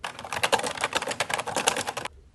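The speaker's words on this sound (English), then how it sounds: "Does your keyboard sound like this?" Rapid clacking keystrokes from a Keychron K2 mechanical keyboard with unmodded stabilizers, typed steadily and close for about two seconds before stopping abruptly.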